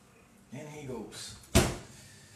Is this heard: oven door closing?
yes